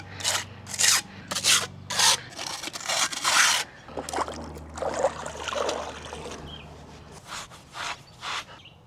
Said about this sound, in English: what I'm doing here is pulling the adhesive and the sand off the wall